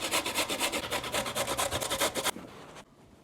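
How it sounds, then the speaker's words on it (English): A carrot is rubbed up and down the fine side of a box grater in steady, rapid strokes, a close rasping that stops after about two seconds and leaves faint handling noise. "I want it to be nice and finely grated, so I think I'm gonna use this side rather than the larger side."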